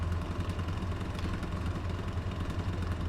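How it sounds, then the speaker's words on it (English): Homemade pulse motor generator running at a little over 1200 RPM, a steady low rhythmic hum and rattle, continuous and fairly quiet, with no voices. "So the RPMs of the motor, a little over 1200 RPMs"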